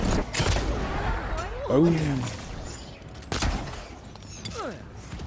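A pistol fired in the fantasy game Avowed during a big final battle in Paradis, with a few sharp sporadic shots amid combat noise, a character voice and spoken commentary over it.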